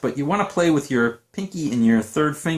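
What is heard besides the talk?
None of the usual background noises is heard.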